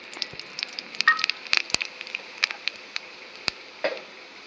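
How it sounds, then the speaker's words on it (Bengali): Bay leaf, dried red chillies and whole cumin seeds crackle in hot oil for a papaya and rohu fish head curry, sharp scattered pops and tiny spits over a soft steady sizzle, close and fairly quiet. "তেজপাতা ফোড়ন দিয়ে দিচ্ছি, শুকনো লঙ্কা, গোটা জিরে"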